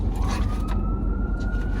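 An ambulance siren wails thinly as it passes over a loud, heavy rumble of nearby traffic, the tone sliding upward and holding steady through the moment.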